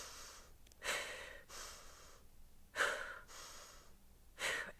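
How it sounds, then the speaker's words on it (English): Short, sharp breaths come in bursts roughly every second or two during an exercise class set with wall presses and kicks. They are close and breathy against a quiet background, with no talk. "my breathing there is short and sweet"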